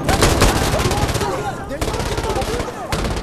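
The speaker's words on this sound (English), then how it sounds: "you just got the MG3 going to town in that hallway" An MG3 machine gun in Insurgency Sandstorm fires long, loud sustained bursts of rapid shots down a hallway, with only brief gaps between strings of fire.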